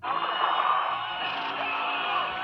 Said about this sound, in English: The first head roaring, doing that sound, while the other two are doing that screeches